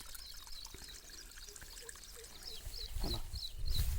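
Water flowing through a levelled farm field, heard as a faint, steady trickling and pouring close by, with small chirping creatures calling rhythmically in the background and no talk.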